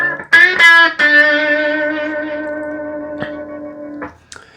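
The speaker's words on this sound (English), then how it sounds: "The more distortion you have, the more that harmonic will ring out." A heavily distorted electric guitar rings out a pinch harmonic in a B lick, loud and close, with a few sharp picked attacks followed by a long sustaining squealing note that slowly decays before muted stabs.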